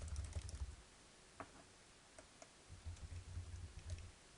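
Someone typing on a computer keyboard: a few soft, sparse keystrokes over a steady low hum and background murmur, close but quiet, with no clear speech.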